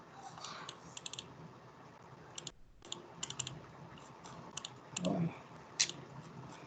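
A computer mouse is clicked at a desk, giving faint, scattered, sharp clicks in irregular bursts over quiet room tone.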